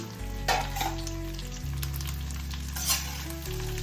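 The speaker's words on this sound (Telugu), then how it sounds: "ఇప్పుడు ఈ 3 కూడా బాగా వేయించుకోవాలి." Dry fruits including figs frying in a pan for laddu, giving a steady close sizzle with a few brief stirring scrapes, no voices.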